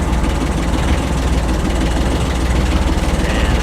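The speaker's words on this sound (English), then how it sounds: "So we're going to start the engine first." A boat engine runs at a steady idle, a loud, low, continuous throbbing rumble with a regular pulsing beat and no voices.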